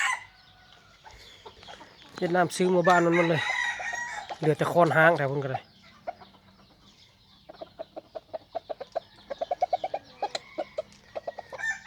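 Domestic chickens, part of a flock of seven decoy birds bought from Vietnam, crow in long, loud rising calls, then give a quick run of rhythmic clucks, while someone talks over them.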